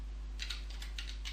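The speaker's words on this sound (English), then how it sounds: "all we have to do is type in the domain name that we registered with Namesco" A domain name is keyed in on a computer keyboard during a web hosting account setup: a short burst of light, close keystrokes in small clusters over a faint steady hum, with no talking.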